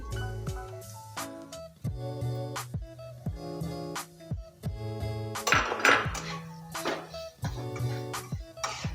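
Cabbage, chillies and vegetables are stir-fried in a pan for restaurant-style soya chilli, with a metal utensil striking the pan in rapid, irregular clinks and clanks and a brief scraping flurry midway, close and clear, with no voices.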